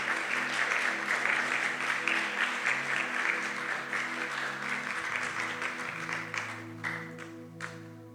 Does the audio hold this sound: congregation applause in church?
yes